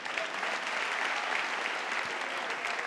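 At a stand-up comedy show, an audience breaks into thunderous applause for a comedian, a dense, even clapping that holds steady throughout without a voice above it.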